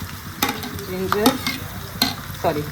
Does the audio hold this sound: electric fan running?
no